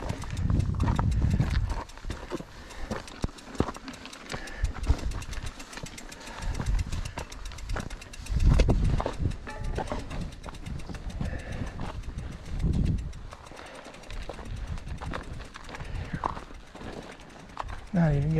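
A donkey walks a high mountain section of the Colorado Trail above 12,000 feet, its hooves clip-clopping steadily in a continuous rhythm, close by, with a person talking at times and outdoor rustle around.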